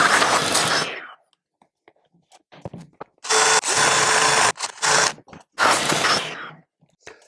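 A power drill enlarges a hole in a diorama piece, whirring in several loud bursts separated by short pauses and quieter handling noises.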